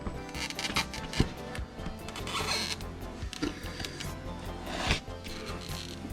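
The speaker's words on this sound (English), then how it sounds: "I'm just gonna cut that. I can't find my blade, so I'm just gonna use my scissors." Scissors snip and saw through packing tape on a Sky Viper Dash nano drone box, with rustling handling and a few sharper clicks and cuts close by.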